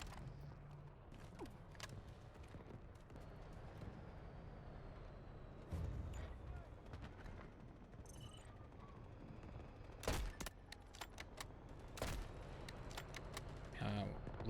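Scattered gunfire bursts from the video game Delta Force Hawk Ops, some close and loud, others distant, over a busy rumbling battlefield background with speech mixed in.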